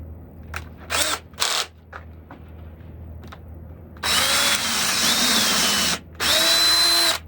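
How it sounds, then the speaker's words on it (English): A power drill with a dull bit whirs in two long bursts after a few short trigger blips, its motor pitch steady and loud, boring into a wooden walking stick with no voices. "That means the drill bit needs sharpened, so I'll get a different drill"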